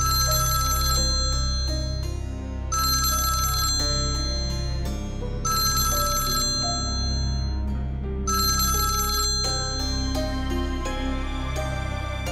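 A telephone rings in a TV drama with repeated bursts of an electronic ringtone in a regular on-off rhythm, loud and continuous over background music.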